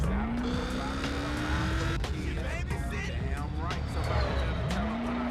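Tire squeal from a car spinning donuts in the video game Roadkill, with rising and falling engine whine and screeching tires sustained over game sounds while a person talks.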